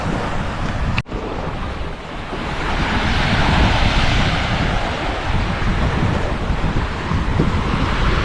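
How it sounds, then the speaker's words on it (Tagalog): Steady broadband wash of surf along a shoreline, continuous and fairly loud with wind rumble, no voices; a brief dropout near the start. "Ang alon nandito na lamang sa gilid"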